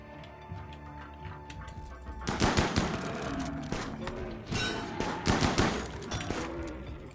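Gunfire in the colony game RimWorld crackles in quick, rapid volleys, a dense burst of shots that starts suddenly, pauses briefly and then picks up again over a steady ticking.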